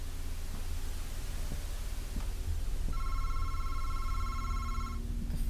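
In a video game, a telephone rings in a short electronic trill for about two seconds over a loud, hissy background with scattered soft knocks.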